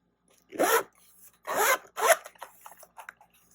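A pen case zipper is pulled open in three short, raspy strokes followed by a few softer scrapes, close to the microphone in a quiet room.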